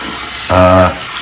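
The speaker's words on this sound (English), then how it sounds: "Let me rinse off my face." Water runs from a bathroom tap in a steady close hiss while a face is rinsed, with a brief voiced hum partway through the short burst.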